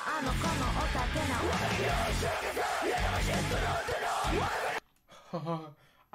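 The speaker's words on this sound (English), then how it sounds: "I said rap. That is a scream." Harsh screamed metal vocals from a cover song roar over dense distorted guitars and pounding drums, loud and continuous before the music cuts out and a speaking voice follows.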